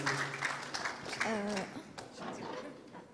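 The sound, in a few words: audience applause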